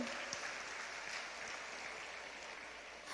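A church congregation claps together during a sermon, with faint, steady applause heard from a distance in a reverberant room, and no clear speech.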